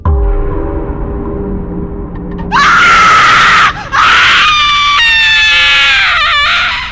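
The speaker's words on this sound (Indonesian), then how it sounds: "dan langsung berteriak serta menangis kencang" A woman screams in a horror story sound effect, starting with a low rumble, then a piercing sustained shriek, a brief break, and further wailing, crying screams, loud and close.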